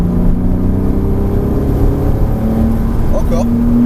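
A Porsche Cayman S engine pulls hard at full throttle on a track, its loud, steady drone rising in pitch, with brief tire or gear sounds near the end and an instructor's voice talking over it.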